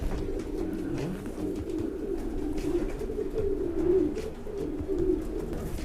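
Racing pigeons in a marathon-racing pigeon loft cooing softly and repeatedly, low murmuring coos overlapping at close range with faint rustling and no talk.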